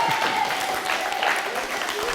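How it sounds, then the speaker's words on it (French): Loud, sustained clapping from a school crowd for Amélie, a student slam performer, a continuous wash of hands with a voice speaking over it. "Faites un tonnerre d'applaudissements pour Amélie, s'il vous plaît, on peut l'applaudir bien fort."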